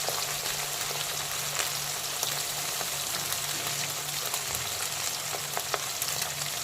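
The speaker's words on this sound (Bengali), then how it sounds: "এখন কিছুটা মোরলা মাছ দিয়ে দেবো তেলের মধ্যে।" Small mourala fish frying in hot oil, a steady dense sizzle with fine crackling pops running evenly throughout, close and fairly loud, with no talk.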